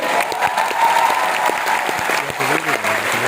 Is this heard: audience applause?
yes